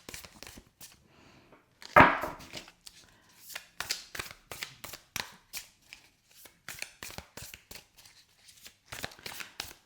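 A tarot card deck being shuffled on a table, a sharp riffle followed by a steady run of quick, close papery taps and flicks, with a voice talking quietly in between.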